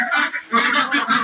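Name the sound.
Pekin and Indian Runner ducks at a duck farm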